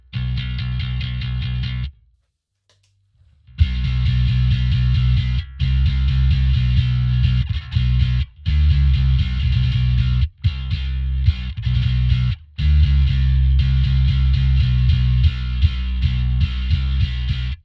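An electric guitar runs through a Barefaced Machinist drive pedal blended with a clean parallel signal, giving loud, full, distorted chords and notes with several short silent breaks between phrases.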